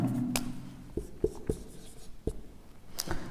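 Pen or chalk writing out an answer, producing sparse scratchy strokes and small taps, close and fairly quiet, with faint room noise behind.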